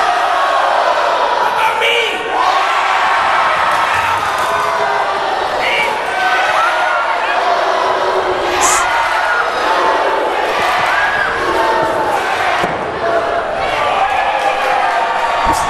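A Windsor wrestling crowd at a Border City Wrestling show jeers Nate Mattson, a dense, loud wall of booing and shouting with scattered whoops and sharp yells riding on top, sustained throughout.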